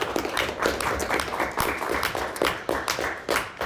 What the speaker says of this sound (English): A nice round of applause for both of our teams competing today.